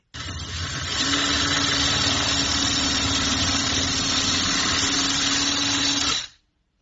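A power drill with a plastic-cutting bit whirs steadily at high speed for about six seconds, cutting a car dashboard, with a gritty cutting noise riding over the motor's steady hum, then winds down.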